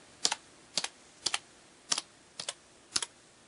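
Typing on a computer keyboard: six separate quick keystroke bursts, most a double click, spaced roughly half a second apart, close and crisp in a quiet room with no talking.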